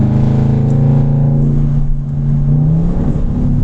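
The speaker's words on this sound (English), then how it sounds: "Seems like the downshifts are a little faster than the upshifts." A 2016 Range Rover Sport, a heavy 5,400-pound SUV, accelerates hard. Its loud, steady engine drone climbs in pitch, then drops as it shifts gears, and keeps pulling with a close, continuous roar.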